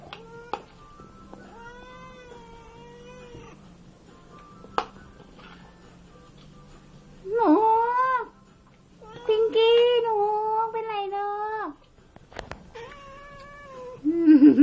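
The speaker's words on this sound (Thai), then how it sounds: "แมวผู้น่าสงสาร" A cat meows repeatedly and clearly up close, several drawn-out plaintive cries with gaps between them and a longer wailing run near the end, over a quiet room.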